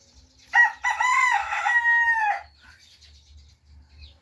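A mixed-breed Brahma rooster among breeder chickens gives one loud, close crow of about two seconds, then a quiet background with faint low rumbling.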